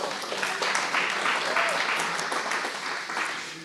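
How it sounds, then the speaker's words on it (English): Audience applause fills a room as a steady, dense wash of clapping that holds strong throughout and tapers slightly at the end, with no talk over it. "thanks for your applause on that video"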